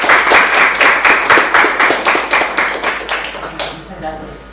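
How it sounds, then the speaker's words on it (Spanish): Rhythmic clapping from an audience at a childbirth workshop, loud and close, the hands beating together in an even, regular pulse before fading out abruptly near the end, with no talking over it. "yo os pediría para ella un fortísimo aplauso"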